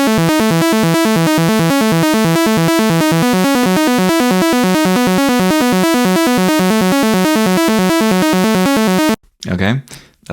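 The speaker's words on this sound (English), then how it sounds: "when the raw oscillator sounds like this" Raw saw-wave oscillators from the Spire and Zebra software synths, with voice drift on, play a steady buzzing harmonic-rich pattern of rapid repeating notes for about nine seconds before cutting off, followed by a brief stretch of talking.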